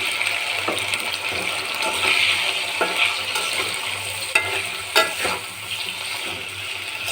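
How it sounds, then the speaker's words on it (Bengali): Banana pieces frying and being stirred in a pan while cooking a vegetable dish, a steady close sizzle with scraping stir strokes and occasional louder clanks, no voices. "কলাটা আমি কিছুক্ষণ নেড়ে নেব।"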